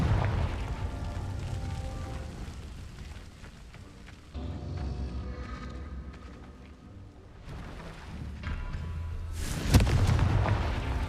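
A Confringo blasting spell in Hogwarts Legacy goes off as a low rumbling boom, followed by a sharper, louder burst near the end amid quieter game ambience.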